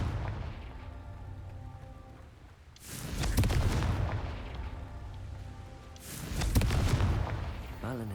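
Confringo blasting curse explosions in the video game Hogwarts Legacy, two loud booming blasts a few seconds apart, each with a rumbling tail over steady low game ambience.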